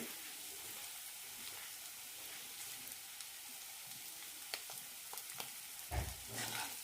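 Ground masala powder roasts in a pan for egg roast with a soft, continuous sizzle, broken by occasional scraping stirs and a louder clatter near the end. No one speaks.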